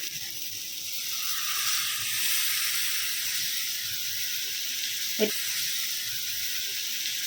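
Dal poured into fried spice paste, giving a steady broad hissing sizzle that holds evenly throughout, close and fairly quiet, with one brief knock partway through.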